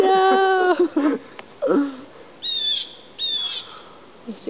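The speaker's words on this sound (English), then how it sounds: "You see all these birds fly away." A flock of birds flying off, calling in bursts of sharp chirps and squawks, with short gaps between calls.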